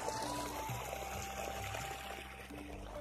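Water gushing from a solar-powered farm pump in a field, a steady, fairly quiet flowing rush with faint tonal hum over it and no talking.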